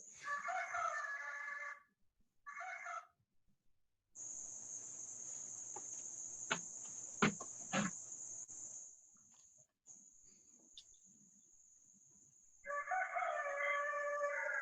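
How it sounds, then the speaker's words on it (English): Rooster crows several times, loud and close, with long drawn-out calls broken by short pauses, and no talking. "Our rooster reminds us that no matter what time of day it is, it's always time to wake up"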